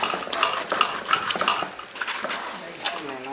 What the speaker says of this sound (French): Maintenant mélanger.